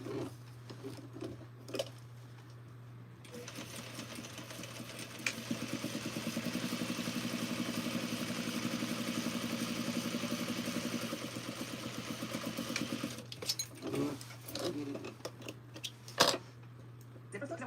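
A sewing machine stitches a zipper onto fabric, its motor humming in a steady, fast mechanical run for about ten seconds between quieter pauses with a few clicks, heard close by against a constant background hum.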